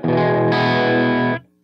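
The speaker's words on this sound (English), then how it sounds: "just a little bit of overdrive on there" A Reverend Club King 290 electric guitar with light overdrive rings out a single strummed chord that sustains loudly for over a second before being cut off.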